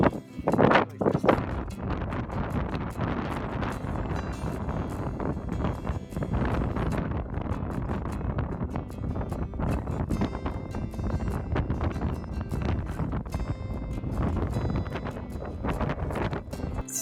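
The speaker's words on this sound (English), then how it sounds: "It's still a little windy in here" Strong wind buffets a sheltered spot on the summit of San Gorgonio in gusts near 55 mph, a constant roaring, rumbling rush with flapping surges, heard alone and close.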